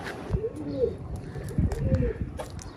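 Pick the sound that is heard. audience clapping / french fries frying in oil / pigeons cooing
pigeons cooing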